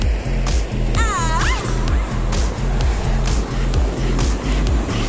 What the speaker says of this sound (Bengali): আপনার ঝর্ণার পাহাড় থেকে যে ঝর্ণাটা আসছে, সেই ঝর্ণাটার জলটা কিন্তু এখান থেকেই নামছে